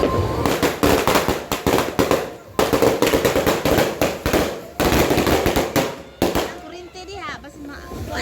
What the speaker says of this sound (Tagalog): Kabilaan dito yung mga fireworks. Ang daming fireworks.